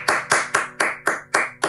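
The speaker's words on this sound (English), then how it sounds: "Let's applaud and give her and celebrate her." Steady, rhythmic hand clapping at a school district staff recognition program, about seven crisp claps at an even pace, close and fairly loud with no voices.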